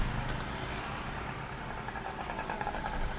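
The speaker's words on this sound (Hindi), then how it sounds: "तो गाड़ी जो है अब मैं स्टार्ट करता हूँ।" Hyundai i20 car engine running at a steady idle after starting, with a clutch plate fault just repaired, a continuous close low rumble throughout.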